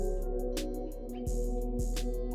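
A sustained synth pad built in FL Studio, shaped with high-pass and low-pass filters and reverb, holds a steady airy chord while short crisp percussive ticks repeat over it.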